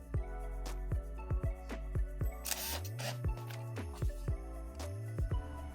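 A run of mechanical clicks and whirs from a Contax G1 film camera's self-timer shutter release, with motor winding sounds and a sharp shutter snap, close up and alone.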